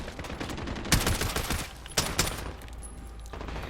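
Oden rifle fire in Call of Duty: Modern Warfare, several close, loud bursts of rapid shots separated by short pauses, with no talk.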